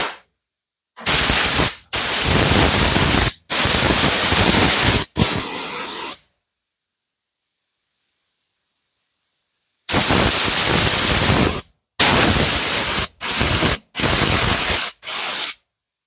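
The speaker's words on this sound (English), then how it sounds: "Just use your air hose," An air hose blows dust off in a body shop, sounding as loud bursts of harsh hiss: several short blasts, a silent pause, then another run of quick blasts.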